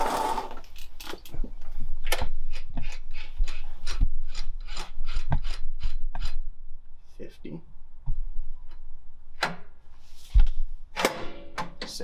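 A manual dial lock fitted to a converted electronic safe is spun and tested with the door open. It gives a steady run of sharp, close ratcheting clicks, then a few scattered clicks, with a voice heard faintly at moments.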